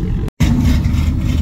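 A Dodge Hellcat fitted with a Carver exhaust rumbles loudly at close range, with a deep, steady engine drone that cuts out for an instant before resuming.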